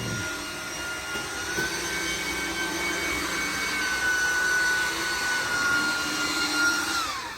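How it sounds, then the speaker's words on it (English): A leaf blower clears cut grass off a mown lawn with a loud, steady whining roar held close for the whole stretch, its pitch shifting slightly and easing off at the end, with no one speaking. "We're blowing it off."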